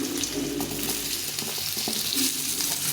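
Potatoes frying in a little oil for a vegetarian curry, a steady close sizzle with faint stirring and scraping ticks running continuously throughout, no voices.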